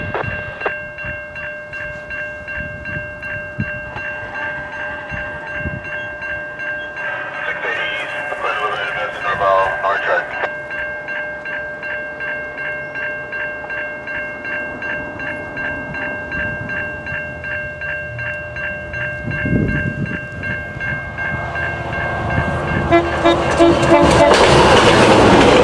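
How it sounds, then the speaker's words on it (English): Kitchener Line GO train heading inbound to Toronto, passing close outside Brampton with a loud rolling rumble, steady tonal whine and clatter that builds toward the end, while people talk over it. "The first of the 2 GO trains is GO 3916 heading inbound to Toronto from Kitchener."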